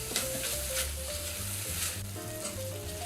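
Onions sizzle and fry in a pan for ribs, a loud, close, continuous crackle with occasional stirring and a faint hum underneath, no talking.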